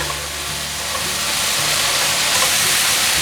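Edamame and pepper are stir-fried in a hot wok, giving a steady, loud hiss and sizzle with faint scraping throughout and no pause.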